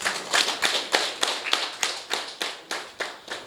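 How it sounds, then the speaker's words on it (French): A small gathering at a political rally claps in unison, a slow, even rhythm of about a dozen loud beats repeating steadily, close and without talk. "Applaudissez pour eux s'il vous plaît."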